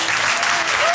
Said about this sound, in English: everybody a round of applause for the couple